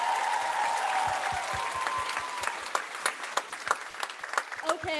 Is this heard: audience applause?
yes